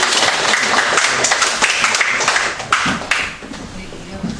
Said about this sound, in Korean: 우리 박수 한번 하나님께 영광을 드려봤습니다